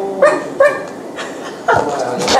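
A voice mimics a barking dog with several short, sharp yapping barks in an uneven rhythm, close and fairly loud.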